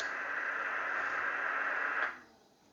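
Steady hiss of static from a Yaesu FT-101 radio receiver with the attenuator switched on, fairly quiet and even, cutting off sharply at the end and leaving near silence.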